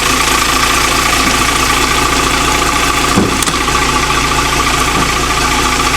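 A car engine idling while it warms up, smoking during MOT preparation, a steady close mid-pitched drone with a faint knock and one brief clunk midway.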